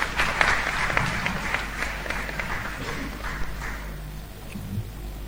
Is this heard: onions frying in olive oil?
no